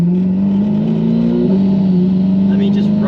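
A 1500-horsepower twin-turbo C8 Corvette drones steadily and close up under light throttle, with its turbo bypass valve hissing faintly near the end; people talk over the engine throughout.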